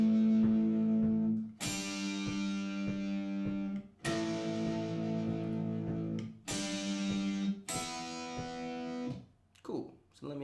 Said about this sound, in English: We're going to play 3 different power chords,